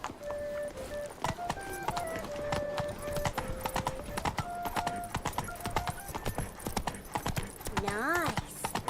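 Hooves clip-clop steadily as a horse gallops in the video game Witcher 3, with a brief whinny near the end, set under music and game sounds with talk throughout.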